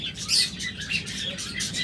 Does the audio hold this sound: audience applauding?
no